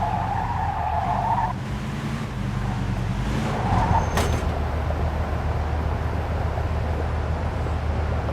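A car in the video game Mafia II rolls through a gate into a yard, with a constant engine drone and a brief tire screech partway through, heard alone without speech.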